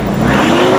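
Car engine revving after a top overhaul tune-up, a brief loud steady mechanical roar heard up close with no talk.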